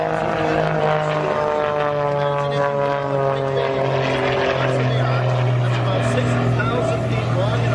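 A Pitts X2C aerobatic plane's propeller engine drones loud and continuous through a hammerhead stall turn at an air show, its pitch sliding downward and then climbing again as the aircraft pivots and dives back toward show center.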